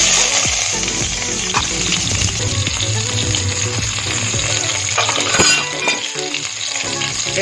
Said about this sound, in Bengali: এবার আমি বেগুনগুলো একটা একটা করে একসঙ্গে দুটো তিনটে করে ভেজে নেবো।